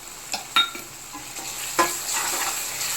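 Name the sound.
prawns frying with ginger garlic paste in a pan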